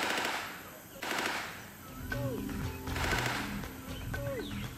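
Bursts of GPMG machine gun fire at a Singapore military training range come in two or three sustained volleys, loud but somewhat distant, with faint birdsong between them.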